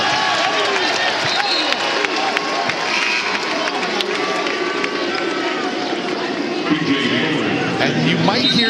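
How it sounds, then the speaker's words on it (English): A West Virginia basketball crowd at home against TCU keeps up a long, low drawn-out chant that resembles booing, loud and continuous under game commentary, with squeaks and scattered shouts from the arena. "you might hear some, what sounds like booing from the WVU crowd. It's actually Deuce."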